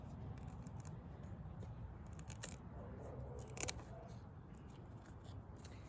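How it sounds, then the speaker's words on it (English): A broccoli head being cut off the plant in a home garden gives a few faint snipping clicks over a quiet, steady outdoor hiss, with no talking. "So this is my broccoli head here, and I am just going to, let's see, looks like I'm gonna cut it right here."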